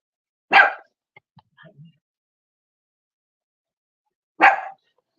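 A small dog gives two short, sharp barks several seconds apart, close and loud, with a few faint tiny sounds between them and otherwise silence.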